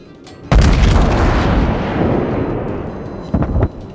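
A heavy naval gun salvo booms in World of Warships, one loud close blast with a long rumbling tail, followed a few seconds later by a second, shorter burst of fire.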